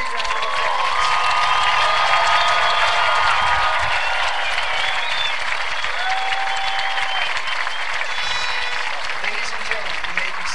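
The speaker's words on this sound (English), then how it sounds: "may we all give them a big round of applause." A graduation audience gives the class of 2015 a long round of applause, a steady, dense roar of clapping that fills the hall with a few cheers mixed in.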